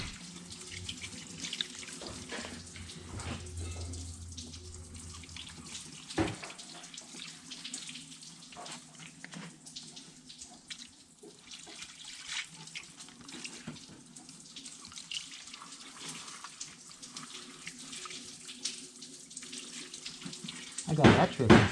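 Warm water is splashed over the engine hoses of a 2011 Duramax 6.6L LML diesel during a thermostat replacement, giving a steady run of pouring and splashing close by. The sound lasts throughout and surges briefly at the end.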